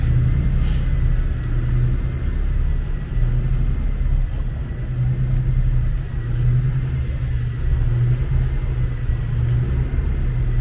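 New York City Transit buses idle outside a Brooklyn bus depot, waiting their turn to enter, as a steady low diesel rumble with slight swells in intensity throughout.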